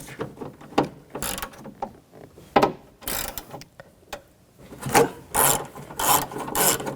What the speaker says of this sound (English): Using a 8mm socket, take this bolt out.